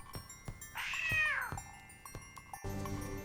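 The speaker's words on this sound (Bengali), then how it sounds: "ভেতরে আটকে পড়ে একটি ছোট্ট বিড়াল" A small cat meows loudly in a drawn-out, rising and falling cry, with a few shorter thumps and clicks around it, heard from a house on fire with smoke rising from the roof.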